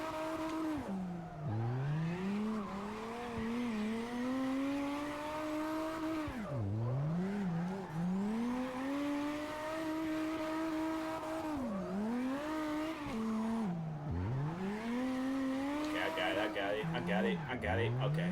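A race car in a video game drifts with repeated tire squeal, the engine pitch rising and dipping in regular cycles as it slides through turns, loud and continuous, while a person talks over it.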